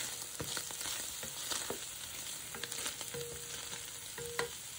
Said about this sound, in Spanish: Y vamos a empezar, ¿verdad?, a dorar nuestro baking de turkey.